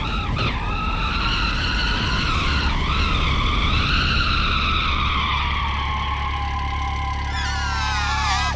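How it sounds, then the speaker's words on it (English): A roll-caged race car with a broken right front wheel spins its tyre and skids: a long, continuous squeal over a low engine rumble, rising and wavering in pitch, with no voices. "I'm not sure which wheel is spinning, but one of them is"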